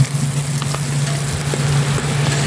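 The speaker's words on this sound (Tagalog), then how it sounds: "ginisa ko na rin mga lods yung ating sweet ham" Chopped sweet ham sautéing in a pan for carbonara, a continuous close sizzle and crackle with light stirring scrapes over a steady low hum, no talking.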